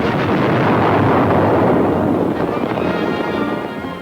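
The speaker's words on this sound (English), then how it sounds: "800 men perish when the magazines explode" Magazines aboard the British battleship Barham explode, a loud continuous roaring blast with rumbling low end that dominates throughout and fades slightly toward the end, heard through old newsreel sound.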